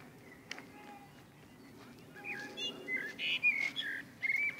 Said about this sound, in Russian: Птички поют